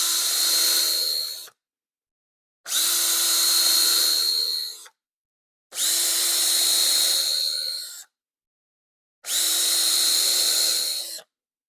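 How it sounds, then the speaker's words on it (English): A power drill whines in four separate bursts while drilling holes in wood, each a few seconds long with short silent pauses between, loud and close. "now I can just go ahead and drill some holes and use a couple of drywall screws to hold them on"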